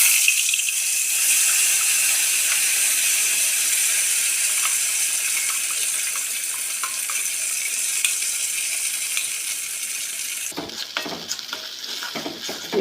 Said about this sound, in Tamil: இப்போ எண்ணெயில் போட்டு இந்த துவையலை இப்படி பிரட்டிக்கிட்டே இருக்கணும்.